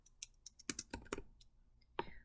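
A few sharp computer mouse clicks while registering on a web page, a cluster of quick close clicks early, then one more after a short pause, dry and faint with no talk.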